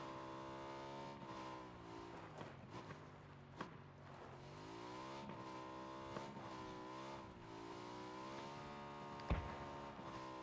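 Car engine driving in a video game: a continuous motor drone that rises and falls in pitch as it revs and shifts, with a few sharp knocks along the way and no talking.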